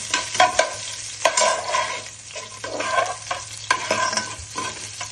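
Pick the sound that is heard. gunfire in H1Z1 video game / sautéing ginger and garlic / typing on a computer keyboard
sautéing ginger and garlic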